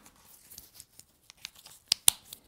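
A bike lamp clicks into the quick-release mount on a helmet. Faint fumbling and plastic handling sounds lead up to two sharp, close clicks near the end.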